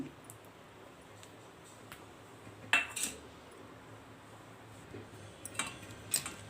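A spoon stirs orange food colour through raw papaya pieces in a bowl, making faint, scattered clinks and scrapes against the bowl with quiet pauses between them.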